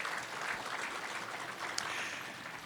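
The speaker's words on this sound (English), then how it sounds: "give her a round of applause" Soft, distant audience applause for Sherry Cruz at a Hmong American Day gathering, a steady wash of clapping from a crowd at moderate to faint level with no speech over it.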